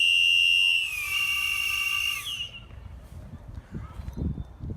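A Hyperwhistle safety whistle blown with compressed air gives a loud, piercing, steady shriek for about two seconds, then stops abruptly, leaving low rumbling and faint handling noise.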